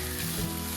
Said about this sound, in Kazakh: дайын болған перловкамызды саламыз.